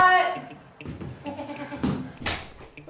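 A goat bleats in a living room, a wavering cry at the start and again in short bursts, loud and close, with thumps and other indoor noises between calls.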